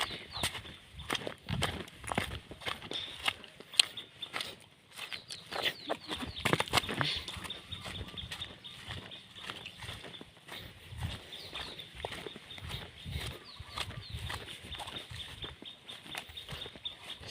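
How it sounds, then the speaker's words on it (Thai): Birds chirp and call in a steady busy chorus along the Moei River, with clucking fowl mixed in, all outdoors and fairly distant. Scattered rustling sounds come through. No one speaks. "เสียงนกร้อง"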